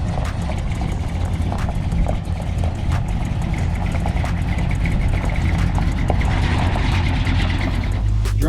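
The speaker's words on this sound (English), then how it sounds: "I get to drive it. I haven't driven this thing over 3 years. I'm gonna drive it right now." A 1969 Ford F100 pickup engine runs steadily, a loud continuous rumble with a constant idle-like drone and no speech.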